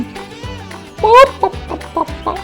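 A rooster clucks in a garden in a string of loud, close, uneven clucks and squawky calls, one rising cry standing out near the middle, with no talk.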